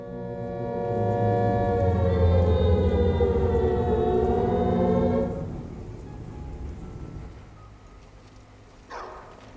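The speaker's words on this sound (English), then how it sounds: "Why are there sirens going off?" A wailing siren sounds during Skyrim gameplay, rising and falling loudly for several seconds before fading into low background noise, with a brief sharp noise near the end.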